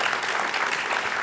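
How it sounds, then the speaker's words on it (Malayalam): Steady applause from an audience, cheering on Yamuna chechi, a Bigg Boss personality, as a dense, even wash of clapping that runs throughout at moderate distance. "അപ്പോൾ ചേച്ചിക്ക് ഒരു കൈയടി"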